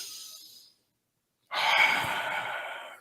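A long, deep breath drawn in after a pause of silence, a broad, airy rush of inhaled air close to the microphone, steady and sustained for over a second.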